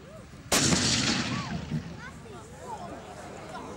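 A tank cannon fires at a target on a military range, one sharp, powerful blast followed by a long rolling echo, with people talking before and after the shot.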